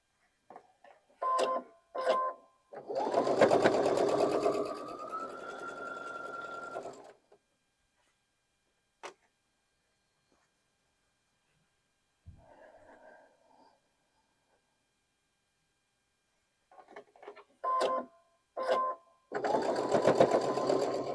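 A sewing machine chain pieces quilt blocks in steady stitching bursts of a few seconds each, separated by pauses and soft handling noises, with a final run of stitching at the end.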